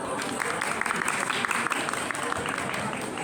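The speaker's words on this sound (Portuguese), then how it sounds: "Então, Marcos, salva de palmas para ele." Applause from the audience at a panel talk on smart cities and digital transformation in communities, a continuous moderate patter of hand claps in a hall, fairly even throughout.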